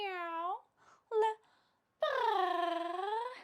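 A cat gives drawn-out meows, one long call, a short chirp-like cry, then a longer wavering meow, close and clear with quiet gaps between.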